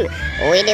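Close, loud zebra neigh from an animal sound effect: a short rising whinny under less than a second of excited speech.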